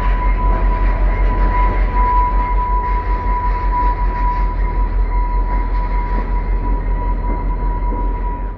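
A freight train rumbles past at steady, loud volume, with low droning wheels and a sustained tonal whine running throughout, at Jasper National Park.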